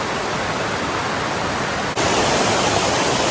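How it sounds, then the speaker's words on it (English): Scale Force waterfall in the Lake District roars as a steady, dense rush of falling water heard up close, continuous and loud throughout, with a brief dip before the roar resumes even stronger. "that's a Scale Force waterfall"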